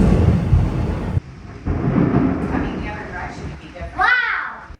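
A thunderstorm with strong wind rumbles and gusts loudly, broken by brief lulls, with a voice calling out briefly near the end.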